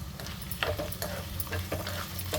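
Chana dal, coriander seeds and dried red chillies frying in hot oil give a steady low sizzle with light crackles and occasional stirring taps, close and fairly quiet, with no talk.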